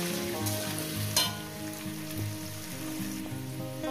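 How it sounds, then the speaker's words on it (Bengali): Salted potatoes fry in oil in a pan with a steady close sizzle and a light pattering crackle, and one brief stirring clack near the start. No one speaks. "লবণটাকে দিয়ে আলুগুলো এইভাবে ভাজবেন, মানে এমনই ভাজবেন ভাজার মধ্যে যাতে সিদ্ধ হয়ে যায়,"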